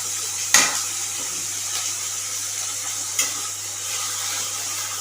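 Onions frying in a pan until soft, giving a steady loud sizzle and hiss throughout, with a couple of brief utensil clicks as they are stirred.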